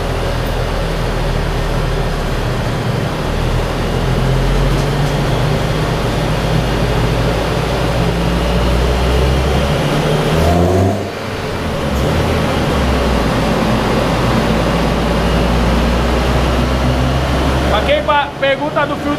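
A turbocharged car engine fitted with a sport air filter gives a loud, steady drone with intake hiss, briefly dipping then resuming near the end.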